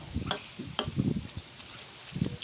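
Steady sizzle of pork cracklings frying in hot oil in a wok, with repeated scraping and clattering strokes as the pieces are stirred around the pan.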